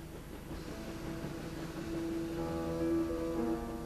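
A train travelling along a railway gives a steady, low rolling rumble with faint rhythmic clatter and a sustained tonal hum, continuous and moderately distant, with no voices.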